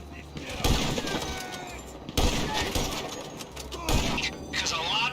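Gunfire in GTA Online during a Doomsday Heist setup mission: repeated bursts of shots and impacts with breaking sounds, loud and near, recurring across the stretch under game audio and voices.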